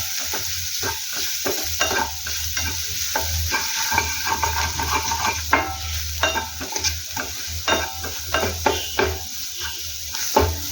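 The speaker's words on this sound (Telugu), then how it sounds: "ఉల్లిపాయలు మరీ ఎక్కువగా ఫ్రై అవ్వాల్సిన అవసరం లేదు." Onions sizzle in a pan for a no-deep-fry aloo bonda filling, with a constant frying hiss, a low steady hum, and frequent close spatula scrapes and clinks as the mix is stirred.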